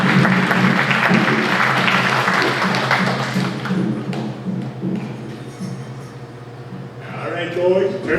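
Audience applause for a young girl at a dance hall event, a sustained wash of clapping that thins out and fades toward the end.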